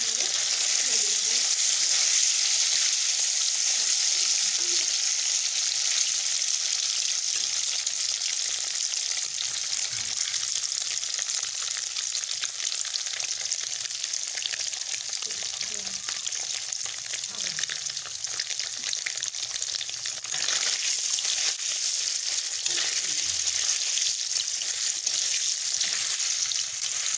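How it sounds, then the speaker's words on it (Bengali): Paneer pieces frying in hot oil in a pan, a steady close sizzle that holds for the whole stretch, with light stirring scrapes and no talking. "পনিরগুলো এইভাবে ভাজা হবে, লাল লাল করে ভেজে নেব।"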